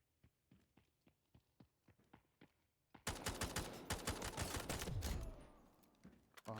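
Single gunshots pop at a steady pace in the video game Delta Force, then a dense burst of rapid automatic fire breaks out and rattles on loudly before tapering off.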